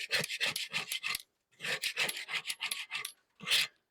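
Wire brush scraping caked ceramic heat deflectors from a kamado grill outdoors: close, rasping strokes in quick rhythmic bursts, a run of about six, a pause, then more strokes and one last scrape.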